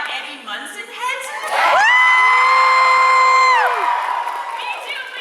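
At a Stranger Things panel at Fan Expo Canada, a crowd of fans erupts into loud screaming cheers, with one piercing held shriek rising above the din before the noise settles back down.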